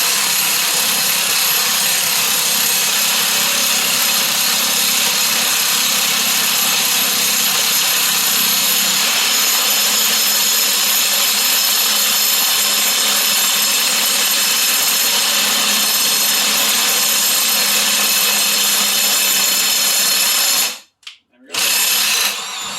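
A power drill set to its highest setting bores out 8.8 axle flanges for 5/8 wheel studs on a Camaro, a loud, steady high-pitched whine that runs continuously before cutting out briefly near the end.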